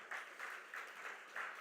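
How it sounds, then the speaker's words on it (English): Faint, thin applause rises for a conference panel at a crypto event in Dubai, soft pulsing waves of clapping heard from a distance. "A big round of applause for our final panel of this first track of the morning."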